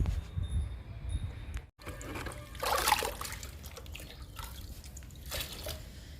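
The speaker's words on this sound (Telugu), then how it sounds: "ఇప్పుడు మనం 3 రకాలతో లిక్విడ్ ఇస్తున్నాము" Liquid fertilizer is poured onto an indoor schefflera in soil, giving a close wet trickle and splashing that swells and fades in a few soft gushes, with no one talking.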